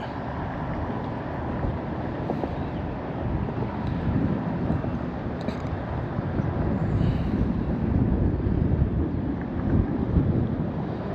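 Steady wind buffets the microphone in a continuous low rumble, gusting a little stronger toward the end.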